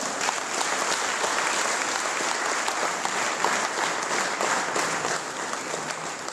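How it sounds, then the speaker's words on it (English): An audience at a Multiple Sclerosis Society India event puts their hands together for Suman, with loud, sustained, dense applause that holds steady throughout. "I think we all can put our hands together to give a better round of applause to Suman."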